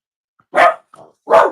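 A pet dog barks indoors, two loud close barks separated by a softer short whimpering yip, each bark sharp and brief against otherwise silent surroundings.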